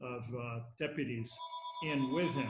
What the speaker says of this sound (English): Pardon the phone.